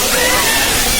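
A steady, loud rush of falling water from Jhor Waterfall in Kathmandu, a waterfall running with only modest flow, heard close up as a continuous broadband roar over about a second.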